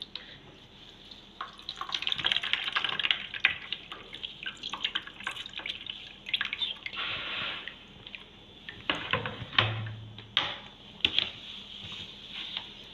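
Strained whey water trickles and drips back into homemade Greek yogurt, a close, irregular run of splashes and drips with brief pauses.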